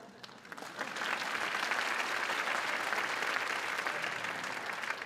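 An audience at a Christmas band concert claps loudly and steadily in a dense, sustained round of applause lasting several seconds, with no talk over it.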